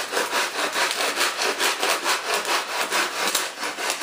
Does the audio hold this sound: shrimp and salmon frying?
no